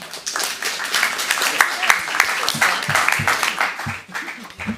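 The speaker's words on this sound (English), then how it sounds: "Let's give yourselves a round of applause" An audience at a city council meeting applauds, a short burst of dense clapping that swells and then thins out, with some voices mixed in.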